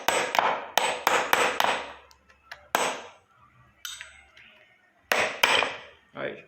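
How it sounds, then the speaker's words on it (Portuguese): Hammer tapping a small wrench to free a caster wheel from an office chair, giving a series of sharp, close metallic taps in irregular bursts separated by short pauses. "Eu utilizo aqui o martelo e essa chavinha aqui"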